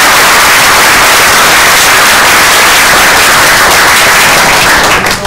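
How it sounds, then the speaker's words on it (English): A support group gives Sonny a round of applause, a dense, loud, steady wash of many hands clapping close by that fills the whole stretch with no voices standing out. "Can we all give Sonny a round of applause?"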